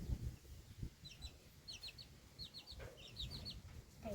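Chickens cluck in short, faint bursts against a quiet outdoor background with low rumble, several brief calls spread across a few seconds.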